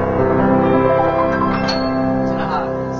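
Bass notes on a Young Chang G-213 seven-foot semi-concert grand piano, sustained low tones ringing loud and full for several seconds with rich overtones, played alone.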